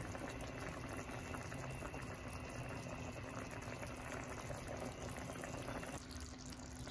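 A breakfast dish with all its ingredients added bubbles away in a pot, making a continuous, even boiling and simmering hiss, heard close and alone without voices.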